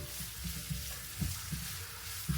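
Garlic frying in a pan, stirred for a native chicken dish with pepper leaves and serrano pepper, as a faint continuous sizzle with a few soft scraping stir strokes.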